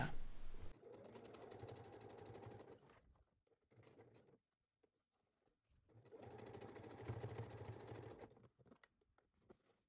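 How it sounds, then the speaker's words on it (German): A sewing machine stitches the seam of a large shopper bag in two steady runs of rapid, even mechanical whirring, close and clear, separated by a pause of near silence. "eine 12 cm lange Wendeöffnung markieren und dann von Nadel zu Nadel nähen"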